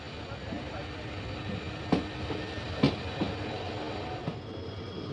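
The Poorna Express passenger train runs near Kulem station in Goa with a steady rolling rumble and a few sharp clacks from the rails. Voices can be heard faintly in the carriage.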